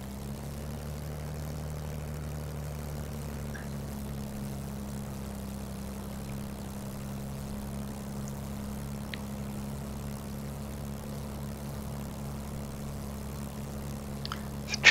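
A propeller aircraft engine in Microsoft Flight Simulator 2020 on a flight from King Salmon to Kulik Lake, Alaska, gives a steady droning hum with a low tonal buzz, holding even in loudness throughout with no voices.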